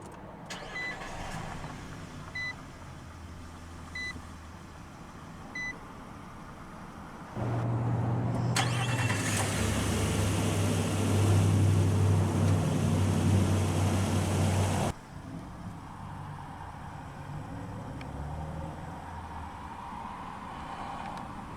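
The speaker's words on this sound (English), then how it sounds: "let's go ahead and start the engine" A 2022 Nissan Frontier SV crew cab pickup starts by push button, its engine catching and running at a loud, steady idle for several seconds before shutting off, with quieter cabin hum before and after.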